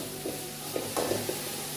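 Tomatoes frying in a hot pan for a potato and prawn curry, a soft, steady sizzle broken by a few brief stirring knocks.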